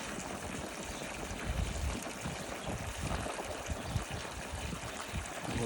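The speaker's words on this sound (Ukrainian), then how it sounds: "Виходить прокачна вода." Steady rushing water pours from a well pipe during pumping, a continuous splashing gush at moderate distance with no voices.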